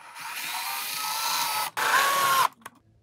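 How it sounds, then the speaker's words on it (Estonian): A power drill bores a small hole into a window frame for mounting a pleated blind, whirring steadily up close for about two seconds, pausing briefly, then spinning again before stopping. "mina puurin siia väikese augu ning lasen selle kruviga aknaraami külge"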